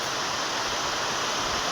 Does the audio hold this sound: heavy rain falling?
yes